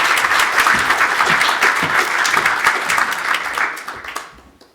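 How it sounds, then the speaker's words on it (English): Audience applause after a conference talk, a dense, steady wash of many hands clapping that carries on for several seconds, then thins and fades out toward the end. "Another round of applause."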